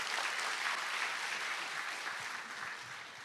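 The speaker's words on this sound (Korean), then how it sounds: "박수로 한번 환영해 주실까요?" A marriage seminar audience welcomes a speaker with a soft, continuous burst of clapping, an even hiss of many hands that fades slightly toward the end, heard fairly quietly with no voices.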